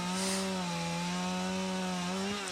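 A chainsaw carving wood for an owl sculpture runs loud and close, a steady buzzing whine that dips slightly as the blade bites into the wood.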